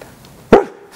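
A person imitates a dog with one short, loud, close vocal bark, alone after a moment of quiet.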